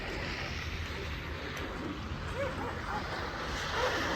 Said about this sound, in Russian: А вон же собачки.